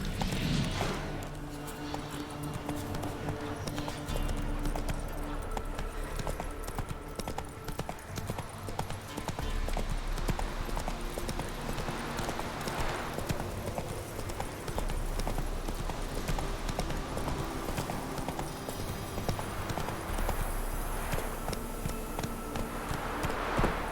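Roach, a horse in The Witcher 3 open world, galloping, with rapid rhythmic hoofbeats that run continuously and loudly over ambient game sound and music.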